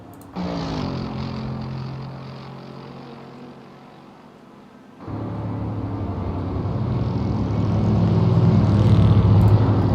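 GT3 race cars in a racing sim video game start a race at Road Atlanta, their engines droning and rising in pitch, then cutting to a louder, growing pack roar that builds steadily.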